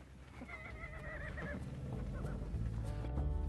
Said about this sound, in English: the feral horses that live on the Pima-Maricopa's land